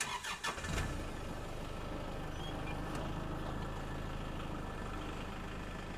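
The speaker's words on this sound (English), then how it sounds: "So if we start the tractor up here" A Kubota tractor engine cranks briefly and catches, then settles into a steady, close idle that continues to the end.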